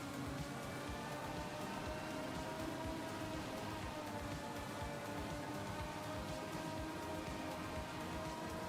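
Steady heavy rain from a racing video game, a dense continuous hiss of drops on the surface with low rumbling underneath, loud and unbroken throughout with no voices.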